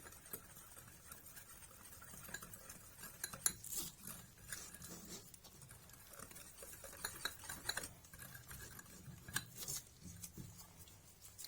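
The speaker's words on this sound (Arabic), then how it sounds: "هضرب الكلام ده كله كده مع بعضه اهو" Mug cake batter ingredients are whisked together in a mug, a faint, quick, uneven clinking and scraping of utensil against the sides that continues throughout with no talk.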